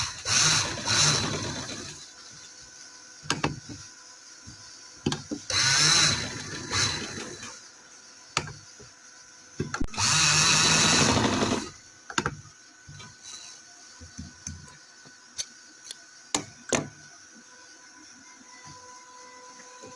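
A sewing machine stitches trouser fabric in three loud bursts of rapid whirring, with quiet pauses and small clicks and handling noises between them.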